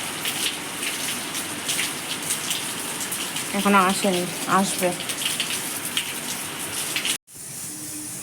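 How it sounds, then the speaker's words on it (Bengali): Heavy rain pours in a windy storm, a dense, even wash of noise throughout, with a voice speaking briefly over it midway before a short break. "ভালোই জোরে বৃষ্টি আছে"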